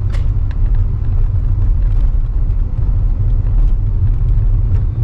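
A car's engine rumbling steadily at low pitch after a shift into second gear on a street with speed bumps, loud and close from inside the cabin, with faint rattles and no talk.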